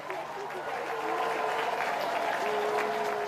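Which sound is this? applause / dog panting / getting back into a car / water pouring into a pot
applause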